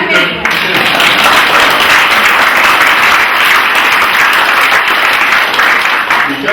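Applause from an audience at an awards ceremony, a loud, dense, sustained wash of clapping that starts abruptly and fills the whole stretch at an even level.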